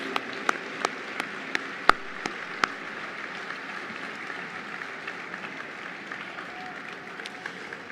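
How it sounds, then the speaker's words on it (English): Dinner-gala audience giving a round of applause, steady moderate clapping from a room full of people with a few sharper nearby claps standing out early on. "a warm round of applause for these important leaders of Atlas Network"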